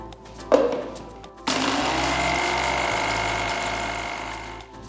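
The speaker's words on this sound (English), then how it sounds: "transfer it to a mixer jar and grind to a nice fine powder" Mixer grinder grinding roasted mustard seeds and fenugreek into a fine powder; a steady loud motor whir starts after a brief clatter and runs evenly for about three seconds before stopping.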